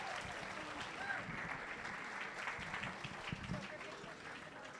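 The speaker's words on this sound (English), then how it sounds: "Give them a nice round of applause" Crowd applause for competitors at a 4-H market goat show at a county fair, a steady wash of clapping held at moderate level throughout, with some voices mixed in.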